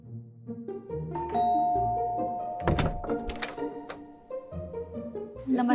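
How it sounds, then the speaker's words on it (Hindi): A house doorbell rings with a bright ding-dong chime mixed with a thunk or two and some door rattling, close and clear with no talking. "और अब चलिए बजाते हैं किसी घर की घंटी।"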